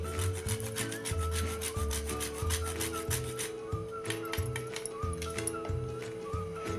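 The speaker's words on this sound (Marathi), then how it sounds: "त्यामध्ये आता थोडं जायफळ किसून घेते." Whole nutmeg scraped on a grater for sweet laddu mixture gives quick, rhythmic rasping strokes, close and fairly soft, with a steady faint hum behind.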